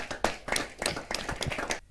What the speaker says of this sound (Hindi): जरा जोरदार तालियों के साथ।